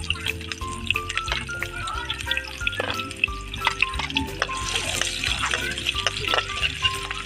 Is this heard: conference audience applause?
no